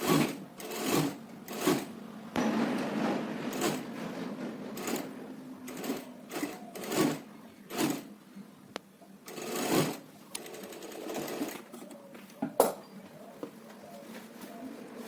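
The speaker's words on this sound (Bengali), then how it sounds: "এবারে লাইনিং এর উপর একটা চাপ সেলাই দিয়ে নিচ্ছি" A sewing machine runs a pressing stitch over the lining of a churidar neckline, in repeated short bursts of close, steady whirring broken by brief pauses, with no talk.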